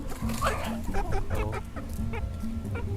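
Chickens clucking close by in a continuous burst of short, choppy calls that overlap one another, fairly loud, with no talk over them.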